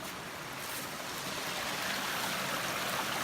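A small creek in the Hemlock Branch forest flows steadily in a continuous broadband rush of water, close and fairly loud, with no voices.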